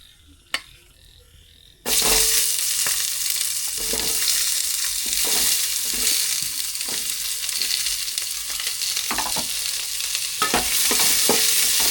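Tomatoes sauté in a pan in a village home kitchen at night, a loud, sustained sizzle that begins suddenly after a quiet moment, broken by repeated scraping strokes of a spoon stirring.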